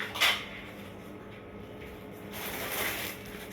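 A set of measuring spoons is handled, giving a quick metallic clink at the start, then soft rustling and light clattering, fairly close and quiet.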